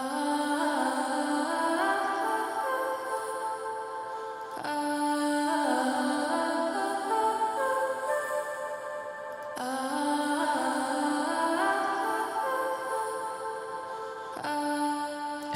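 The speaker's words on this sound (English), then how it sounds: "what you'll hear on the top here is an arcade sample, and these are the vocal chops if we solo them" Vocal chops from the Distant Voices line of Output's Arcade plugin, soloed in a Logic Pro X production: pitched, sung-sounding fragments repeat in a looping phrase roughly every five seconds at steady, full loudness with no talking.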